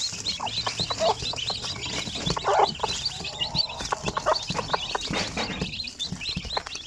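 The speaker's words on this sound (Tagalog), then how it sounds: "Kaya marami yung aking mga sisiw dito." Native Sampen chicks peeping in a busy flock, a dense, continuous chorus of high chirps with occasional louder calls, close and steady throughout with no talking.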